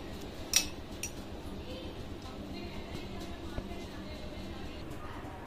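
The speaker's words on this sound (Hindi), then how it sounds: "और इसको अच्छे से मिक्स कर देंगे।" A spoon stirring water into aam panna mango drink, with a sharp clink against the vessel followed by light, scattered tapping and swishing at low volume.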